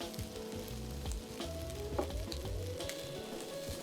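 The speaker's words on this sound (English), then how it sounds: "I'm gonna throw my kale on top, and the heat from the dishes is gonna naturally steam the kale" Kale steaming on top of hot sweet potatoes and chickpeas in a pan, giving a continuous low crackling sizzle with faint clinks and a soft background hum, quiet and unbroken, with no voices.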